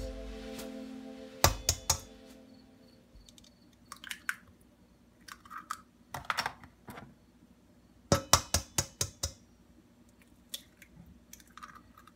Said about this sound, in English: So I'm just going to crack the 3 large eggs.